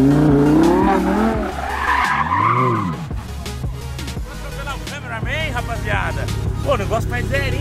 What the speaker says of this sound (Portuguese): Pô, o negócio faz zerinho, tio.